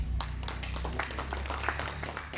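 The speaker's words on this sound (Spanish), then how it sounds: "Alabemos con fuertes palmas a Jesús." A church congregation claps in praise of Jesus during a Sunday service: a scattered, irregular burst of hand claps over a steady low hum, moderately loud and wordless.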